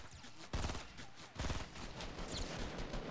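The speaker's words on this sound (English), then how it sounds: "But I'm getting shot." Sustained gunfire in the Fortnite battle royale video game, bursts of rapid shots and fusillades filling the whole stretch loudly with little pause, under faint game noise.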